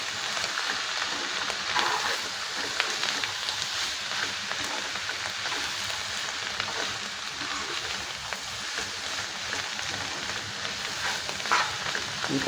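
Cabbage pieces frying in a pan with ginger garlic paste for a Telugu cabbage curry, a steady, dense sizzle and crackle that runs without a break, fairly close and even in level.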